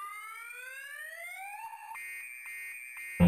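An electronic alarm in the online shooter Black Ops 2 sounds as a rising warbling tone that settles into a steady shrill pulsing beep, ending in a sudden loud burst.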